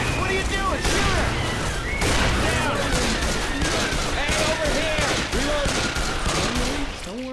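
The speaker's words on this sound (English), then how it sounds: "Shoot the witch! What are you doing? Shoot her!" Dense gunfire from Left 4 Dead 2 shooting at the Witch, rapid overlapping shots and bursts filling the whole stretch at high volume, with chaotic game effects blended in and no pauses.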